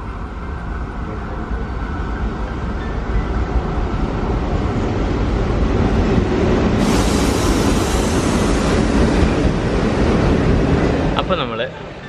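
A train rumbles steadily and fairly loud as it arrives at Kundara railway station in Kerala, heard from on board with a constant roar of movement and wind. The noise eases near the end.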